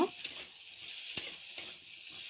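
Potatoes and cauliflower fry in a pan with cumin powder, chili powder, ginger-green chili paste and a little sugar, making a soft, steady sizzle with a few faint stirring clicks.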